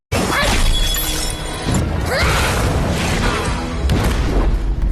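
A loud, crashing burst with shattering debris rumbles and crackles continuously, followed by another sharp impact near the end.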